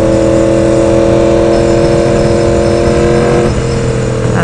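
A loud 2016 Yamaha R1 motorcycle engine runs steadily at close range with a droning whir, its pitch shifting near the end as it revs.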